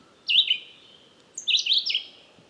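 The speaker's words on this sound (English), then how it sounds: "So it's good to be able to pick up a bird in the high end of trees" Bird song picked up with a parabolic microphone aimed high into trees: two bright, clear phrases of whistled chirps, a short one followed by a longer, warbling run after a pause, close and loud over quiet background.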